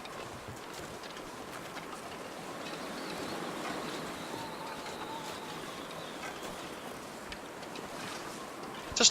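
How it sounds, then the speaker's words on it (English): Wind blows through the survival video game The Long Dark as a steady, hollow rushing gust with a faint airy whistle, swelling slightly midway and holding for the whole stretch with no talking. "Just windy though"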